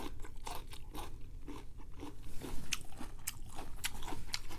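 Someone chews a mouthful of Thai papaya salad (som tam) close to the microphone. Repeated crisp, crunchy bites and wet chewing follow one another at an uneven pace, with no talking.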